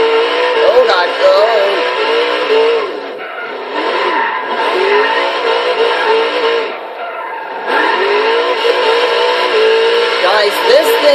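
1972 Chrysler VH Valiant Charger R/T E49 in Forza Horizon 3 drifting, its engine revving hard with rising and falling pitch and tire squeal, loud and continuous with brief dips in throttle.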